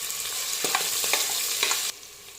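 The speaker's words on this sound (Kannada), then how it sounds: "ಈರುಳ್ಳಿನ ಲೈಟ್ ಬ್ರೌನ್ ಬರೋವರೆಗೂ ಚೆನ್ನಾಗಿ ಫ್ರೈ ಮಾಡ್ಕೊಳ್ಳಿ" Sliced onions fry in a hot pan for a home-style green chicken biryani, a steady loud sizzle broken by a few scraping stirs before the hiss drops off abruptly near the end; no talking.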